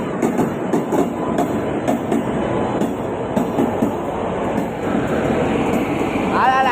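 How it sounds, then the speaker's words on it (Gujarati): A passenger train pulls into a railway station with a loud, steady rolling rumble and clatter of wheels, a brief metallic wheel squeal near the end, and crowd voices on the platform mixed underneath. "હવે જોઈએ હવે ટ્રેન આવી ગઈ છે"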